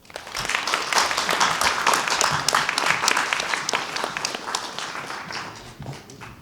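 An audience claps at a student research symposium after a presentation, a dense, steady round of applause that swells quickly, holds, and tapers off near the end.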